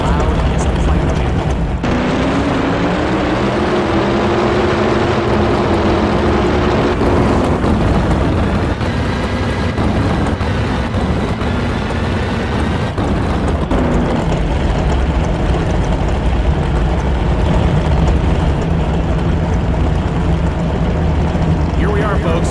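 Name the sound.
NHRA Super Mod drag racing engines roaring, video game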